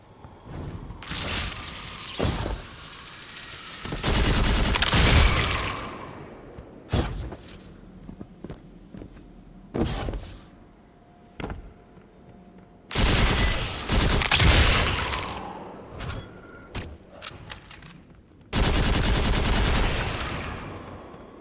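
Gunfire from the video game Destiny 2: The Witch Queen, with repeated loud bursts of shots and heavy impacts in uneven clusters, separated by quieter stretches with scattered thuds.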